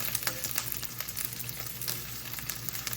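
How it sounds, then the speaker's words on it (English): Ground hamburger beef sizzles and crackles steadily in a hot pan for a pan-fried succotash stew, a dense, even frying hiss with small pops and a low hum underneath, no talking. "going to put our hamburger in, get that going"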